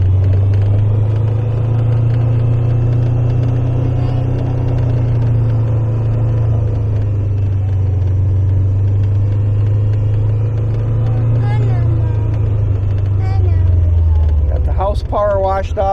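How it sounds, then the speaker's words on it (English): A John Deere 994R riding mower engine idling on a near-freezing farm day, a loud steady low drone close by that dips near the end as clattering and a voice break in. "Being it's just about freezing, that mower started pretty well."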